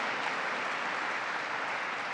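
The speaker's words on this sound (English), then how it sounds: "let's give them a round of applause" An audience of officials and advocates at a state bill-signing ceremony applauds state legislators, a steady, even wash of clapping throughout, heard from a little distance with no voices over it.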